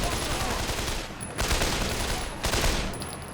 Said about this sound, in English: if you're struggling to shoot, you can also switch to turret